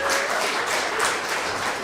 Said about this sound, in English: We need to get a round of applause for Haiti Action Committee.